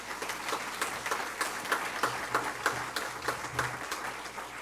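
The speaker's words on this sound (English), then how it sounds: "So a round of applause to Susan Elias." Applause for Susan Elias at a high school honors banquet, a steady wash of many hands clapping at moderate volume with no voices over it.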